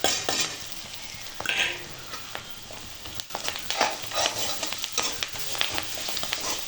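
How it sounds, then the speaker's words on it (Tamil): Ginger, garlic, onions and biryani masala sauté in a pan with a continuous crackling sizzle, punctuated throughout by frequent sharp spatula scrapes and stirring clinks close by. "நல்லா வதங்கட்டும். இப்போ நல்லா இஞ்சி பூண்டு வதங்கிடுச்சு."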